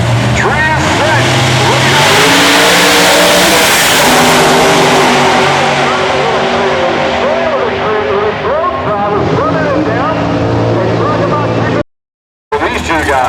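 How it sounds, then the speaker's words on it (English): A 2000 Firebird with Hemphill Race Engines power launches down a drag strip at the IHRA finals at Rockingham, a loud, sustained engine roar climbing through gears and filling the air before cutting off abruptly near the end. "believe we've got my man Jeff Sawyer, Ohio, running the Hemphill Race Engines 2000 Firebird"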